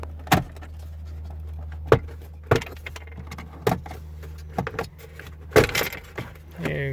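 Plastic interior trim clicks and snaps as a side panel is pried off in a 2015 Toyota Prius cabin, five or six sharp separate pops spread over several seconds against a steady low hum.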